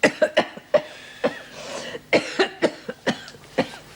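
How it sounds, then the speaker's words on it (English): A rapid series of about a dozen sharp coughs, some bunched together, close and fairly loud with brief pauses between. "How long have you had that cough?"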